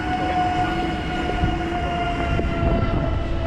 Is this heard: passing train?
yes